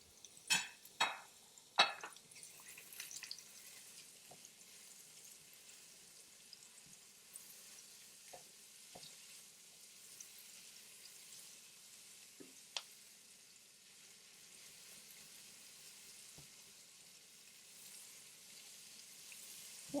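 Onion and Scotch Bonnet pepper frying in a pot, a soft continuous sizzle with a few sharp clatters of stirring at the start and occasional light ticks throughout.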